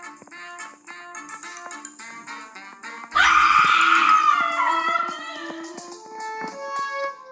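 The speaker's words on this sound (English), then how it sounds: "everyone else is screaming" People scream and wail loudly during a flash flood, long sustained high-pitched cries that overlap and surge into a dense burst midway, then continue in waves.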